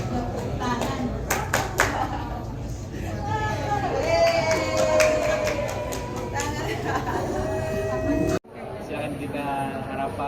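A family group clapping hands along to a sung Indonesian children's song, with sharp claps over singing voices and room chatter.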